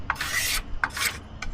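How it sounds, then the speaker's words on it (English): Scraping polyurethane finish off a wooden handle of a Cold Steel Trail Boss, in repeated rasping strokes, three scrapes close up with brief pauses between them. "you scrape that poly off"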